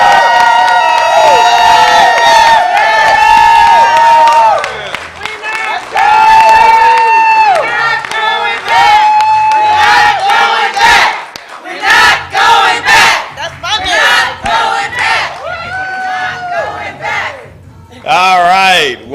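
A lively crowd at a Democratic election watch party cheers and shouts in long, loud bursts, with whoops and chanting swelling and dipping throughout before a brief scattering of applause near the end.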